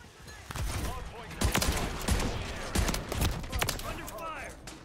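Rapid bursts of gunfire in Call of Duty Black Ops 6 crack out repeatedly, some close and loud, alongside game voice lines talking over the shooting.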